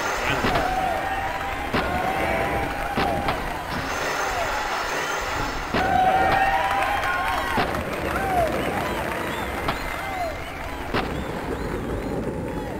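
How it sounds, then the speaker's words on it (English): Constant crowd roar and cheering from Tony Hawk's Pro Skater prototype on PlayStation, loud and steady, mixed with skateboard rolling, thuds and whistling tones, with a person talking over it. "These crowds sound pretty annoying."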